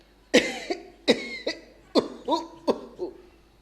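A voice imitates the harsh, hacking coughs of someone smoking a hookah, about six in a row in uneven bursts, loud and close with no other sound.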